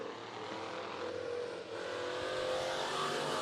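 Race cars roar in a steady, continuous drone during a heat race at Bakersfield Speedway. Several engines overlap at a distance, with a brief dip in the sound before it swells again.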